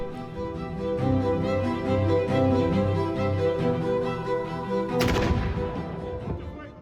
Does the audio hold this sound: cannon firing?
yes